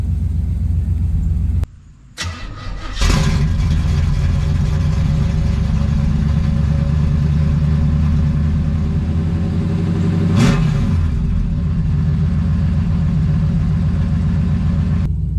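A 1969 Camaro Super Sport engine holds a steady, loud, rumbling slow idle, with a brief dip near the start and a short blip partway through, and no voices over it.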